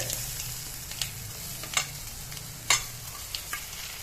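Cut pieces of urad dal filling frying in hot oil, a quiet steady sizzle and bubbling with a few sharp spoon scrapes and taps against the pan scattered through, no voices.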